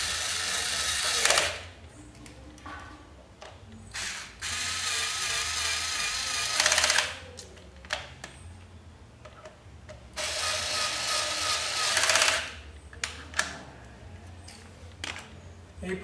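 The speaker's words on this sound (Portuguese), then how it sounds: "Aí eu vou usar a parafusadeira aqui para terminar de colocar no lugar." An electric screwdriver drives screws into a Yamaha XV 250 Virago motorcycle, three separate whirring bursts of about two seconds each, close, with ratcheting clicks and handling noise between.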